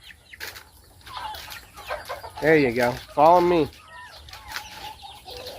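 Chickens cluck a few times, near and moderately loud, over a quiet outdoor background while a person speaks briefly.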